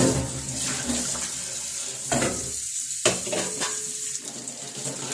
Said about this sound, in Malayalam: ഉപ്പുമാവ് ഉണ്ടാക്കാൻ പാത്രം കഴുകിക്കൊണ്ട് കുറേ പാത്രം കഴുകി